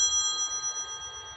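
A telephone rings indoors with a steady electronic tone that holds for the whole moment, moderately loud and with no voices over it.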